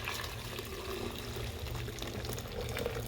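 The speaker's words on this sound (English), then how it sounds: "So now I'm just going to pour the boiling water in." Boiling water poured from a kettle into a container during gold recovery from computer scrap, a continuous close gurgling pour over low background rumble.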